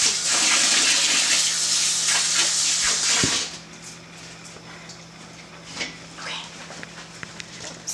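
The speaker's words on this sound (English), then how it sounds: "I'm gonna wash my hands real quick" Running tap water splashes loudly over hands for about three seconds at a kitchen sink, then stops, leaving quiet handling noises and faint clatter.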